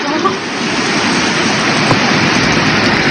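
Dense, loud rush of heavy rain in Aruba, a constant broadband roar close by with no gaps or distinct drops.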